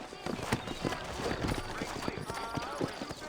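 Horse hooves clip-clop in a quick, steady rhythm in Red Dead Redemption, several horses trotting nearby with faint ambient background sound.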